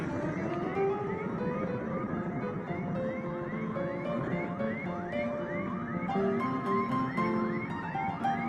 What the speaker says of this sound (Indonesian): Ada ambulan bro, ambulan.